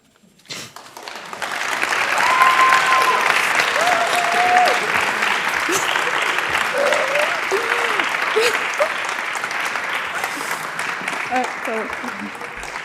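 A crowd in a parliamentary chamber applauds sustained and loud at the close of a youth debating contest final, swelling quickly then holding steady, with some voices and whistles mixed in.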